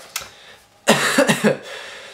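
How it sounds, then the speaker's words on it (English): A few rough coughs in quick succession, close to the microphone, then quiet. "sorry for the coughing by the way"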